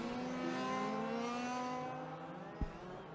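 A large-scale RC race car at the Australian nationals runs down the front straight, its small engine holding a steady high buzzing whine that fades as it passes, with a sharp knock near the end.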